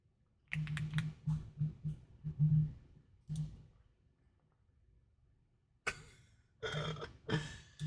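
Bursts of computer keyboard typing, close and moderately loud, broken by a long pause before a final flurry of keystrokes.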